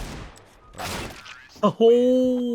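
A single gunshot in Counter-Strike on the Dust 2 map, a sharp crack followed by ringing metallic tones, heard after a stretch of talking.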